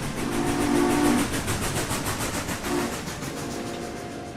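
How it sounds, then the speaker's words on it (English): Steam train in the RimWorld video game, loud and continuous with a rhythmic chugging rumble and two short whistle tones, one near the start and a briefer one later. "The train ended up catching up with Dale's caravan incredibly fast"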